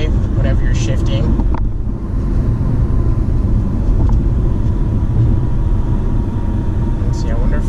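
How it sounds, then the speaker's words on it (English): A 2018 Mazda CX-5 SUV drives along with a steady, loud cabin rumble of engine and road noise while gears are shifted in manual mode, and a person talks over it. "Shifting it in manual mode, it is responsive. It doesn't delay in any way whenever you're shifting."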